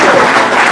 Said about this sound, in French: Si je suis bon, applaudis.